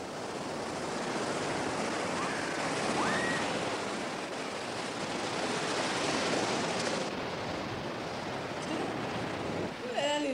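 Sea waves breaking near the shore at Orouët, a steady broad wash of surf with wind noise, continuous and fairly loud, with faint voices in the background.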